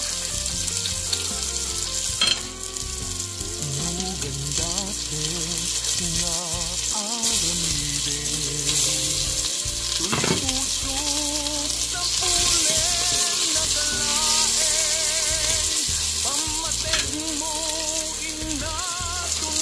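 Onions frying in a pan for pinakbet, following garlic, a steady loud sizzle with bursts of clattering and stirring throughout, no voices.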